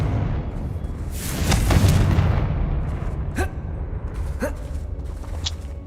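A Confringo fire spell blast in Hogwarts Legacy, a broad rumbling boom swelling then fading, with a couple of short sharp cracks trailing after it.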